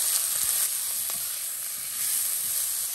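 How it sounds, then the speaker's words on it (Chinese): Colored bell pepper slices sizzle steadily in a hot wok with garlic, ginger, scallion and dried chili, a continuous bright frying hiss with faint scraping of the stir-fry. "加入彩椒片，翻炒一两分钟"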